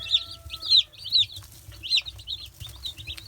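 Young chicks in a draft-free brooder make repeated high chirps in quick bursts, loud and close, with a low rumbling hum underneath.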